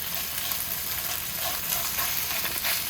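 Beef sizzles and fries steadily in a hot oiled pan, a dense crackling hiss with small pops, close and continuous, with no talking.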